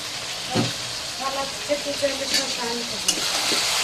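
Food frying in a home kitchen pan while being stirred, with a steady hiss and a few brief scraping clinks nearby, partly under faint background voices.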